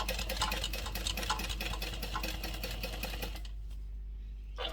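A sewing machine runs a rapid, steady stitching rhythm up the lower pocket piece of a Catalina garment at a 5 stitch length, then stops and falls quiet near the end.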